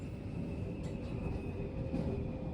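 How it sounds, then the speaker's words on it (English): Train on line 12 creeping slowly through curved track past construction, a low continuous rumble of wheels with a steady tonal hum and faint squeal, heard from inside the carriage with no talk. "The train moved quite slowly through here"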